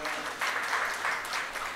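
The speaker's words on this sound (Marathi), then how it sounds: "आपण टाळ्या वाजवून त्यांचं कौतुक करूया" An audience at a Marathi book launch ceremony claps in a steady, dense round of applause that continues throughout.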